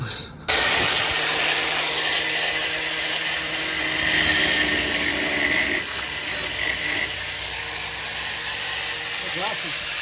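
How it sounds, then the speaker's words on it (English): An angle grinder cuts off worn suspension parts on a guarded wheel, a loud sustained broadband whine that runs almost the whole clip with small dips in pitch as the load changes. "we're gonna have to grind them off"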